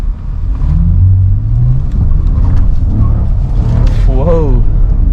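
Lexus RX 350 luxury SUV pulling hard from inside the cabin, a steady engine drone climbing through the gears, with someone talking excitedly over it throughout.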